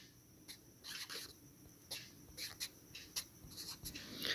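A pen writes numbers on paper in short, quiet scratching strokes that come in irregular bursts with small pauses between, close up and alone with no voice.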